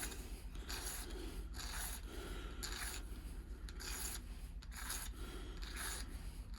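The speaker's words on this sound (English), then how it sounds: "I'm just filing some extra passages to get the oil around" Hand file rasping back and forth on an SU carburettor piston damper rod, cutting extra oil passages; steady rhythmic strokes, close and fairly quiet, with no talking.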